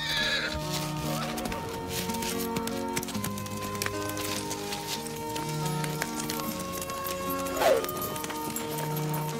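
A horse whinnies briefly amid a busy mix of hoof clatter and background music, with one sharper neigh rising near the end.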